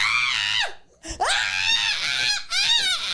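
A person imitates a girl screaming, giving two loud, shrill, wavering shrieks close to the microphone, separated by a brief gasp.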